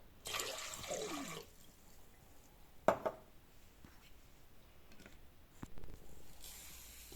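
A glass of vinegar splashes and pours into water in a pot in short bursts, for pickling zucchini, with a brief clink partway through, fairly close and otherwise quiet.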